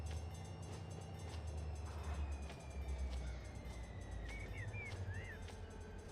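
Locomotives in the Run 8 train simulator game rumble with a low, steady diesel drone and faint rail noise, with a brief higher whine near the end.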